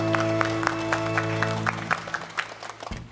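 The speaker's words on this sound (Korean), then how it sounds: "우리 하나님께 영광, 구원의 주님께 영광의 박수 드리겠습니다." A church congregation at a Sunday worship service applauds, scattered claps rising over a sustained organ or keyboard chord and tapering off near the end.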